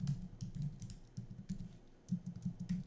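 Computer keyboard typing during a coding interview, a close run of quick uneven key taps with a brief pause partway through and no talking.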